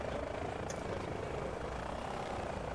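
C-17 military transport aircraft flying overhead, a continuous deep droning engine rumble with a thin high whine, steady and moderately distant throughout.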